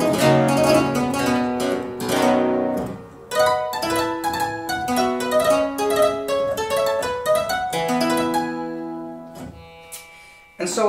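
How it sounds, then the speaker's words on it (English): Restored harpsichord played with the buff (lute) stop engaged, giving a muted, plucked tone; a steady run of close notes and chords over about eleven seconds, with a short pause and a sharp attack near the end. "a buff stop, it's called, or lute, and that sounds like this."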